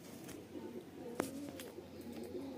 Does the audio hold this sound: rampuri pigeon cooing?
yes